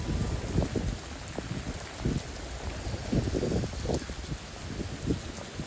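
Steady rain falls close by at Tyngam Masi Viewpoint, Laitsohpliah, Cherrapunji, in fog, with irregular heavier drops and splashes thudding through a constant wet hiss; no voices.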